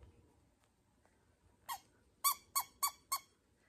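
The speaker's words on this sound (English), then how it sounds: "I found one little rubber squeaky." A small rubber squeaky toy, a tiny lamb-like figure, gives one squeak and then four quick squeaks in a steady rhythm, close and fairly loud against a quiet background.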